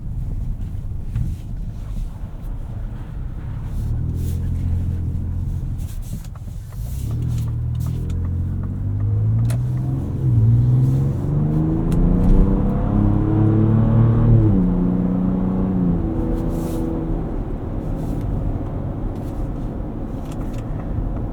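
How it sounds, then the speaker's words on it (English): A Ford Ranger Raptor on 35-inch mud-terrain tires drives off-road, its engine rumbling loudly and rising in pitch as it accelerates, with heavy wind buffeting the microphone and no voices. "Initial impressions driving the Ranger Raptor on mud terrains on 35s"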